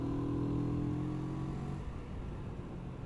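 A CF Moto 650NK parallel-twin motorcycle engine revs up steadily for the first half, its harmonic drone strong and close, then eases off into a rougher, lower rumble.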